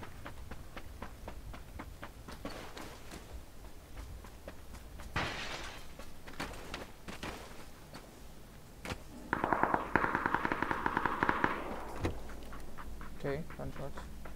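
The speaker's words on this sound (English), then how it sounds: "Okay, gunshots." Gunfire in PUBG on PC comes as scattered distant shots, then a louder, rapid automatic burst partway through, while a player talks over much of it.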